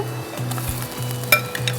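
Medium-sized chicken pieces are stirred through hot oil and onions for a shahi morog montajan with sour yogurt. A soft, steady sizzle runs under a low hum, broken by occasional spoon scrapes and light clinks against the pan.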